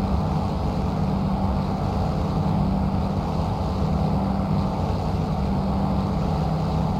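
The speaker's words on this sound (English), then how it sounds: "Certainly can't complain about those engine sounds though, really loving the sounds of the P-40F so far." A P-40F Warhawk piston engine in a flight simulator drones steadily and loudly, a continuous low rumble with wind-like roar and no voices over it.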